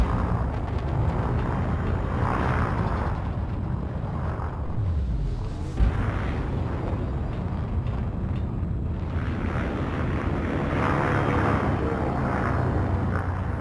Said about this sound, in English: Wow, these engines really are loud.